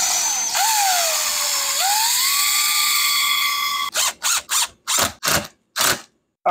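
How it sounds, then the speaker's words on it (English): A power drill drives 3-inch screws through pre-drilled holes into sistered basement framing joists: one long, steady whine of drilling, then a series of five or six short, loud bursts as each screw is run in. "pre-drill all four holes, then put the 3-inch screws in."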